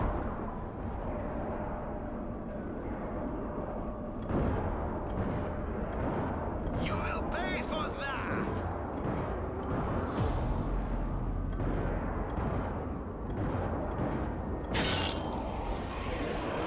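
Superweapon coils fire in the Zombie Army 4 video game, producing a dense, sustained roar of crackling energy and rumbling bursts, with sharp sizzling discharges and a sudden loud surge near the end.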